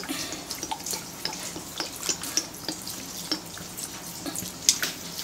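Water is poured into a cooking pot of paksiw na banak, a Filipino fish dish made with vinegar and salt, giving soft, irregular splashing and dripping close by with a light, bubbly patter and no talking.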